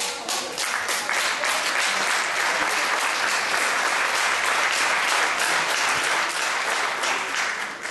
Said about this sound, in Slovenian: Hvala za aplavz.